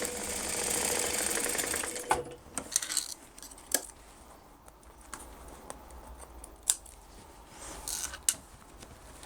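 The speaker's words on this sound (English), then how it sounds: "line up the bottom and sew along the bottom at a 10" A sewing machine stitches the bottom seam of a cross-body bag's two exterior panels at a 3/8-inch allowance, running steadily and close up for about two seconds, then stopping, followed by scattered clicks and fabric handling.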